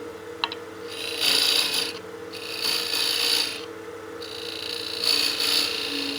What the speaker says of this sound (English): Go back to the box scraper just to remove some more material,